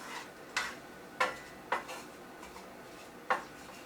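A spoon stirs lean ground beef in olive oil in a pan, giving five sharp clinks against the metal spaced about half a second apart over a quiet background.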